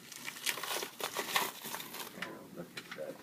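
Plastic cover on a steak package being ripped open: crinkly tearing and crumpling in irregular bursts, close and fairly quiet, with light voices in the background.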